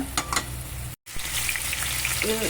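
Pindi mirapakaya chillies sizzle steadily in hot oil in a home kitchen, a dense crackling hiss that stays loud and close, broken only by a brief moment of silence.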